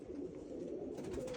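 A pigeon coos nearby in a soft, low, throaty burble that rolls on steadily for over a second, with no voices over it.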